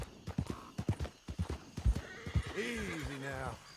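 A horse in Red Dead Redemption 2 trots with a run of clear clip-clop hoofbeats, then lets out a loud, wavering whinny up close, with a voice speaking over part of it.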